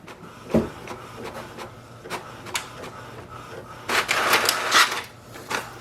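An HP DeskJet 3700 series inkjet printer whirs and clicks in short mechanical bursts while making copies, with a busier run of feeding and printing noise near the end.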